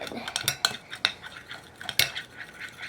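A utensil scrapes and clinks around a bowl of fluffy slime ingredients, a string of light, irregular taps and scrapes at close range, fairly quiet and alone.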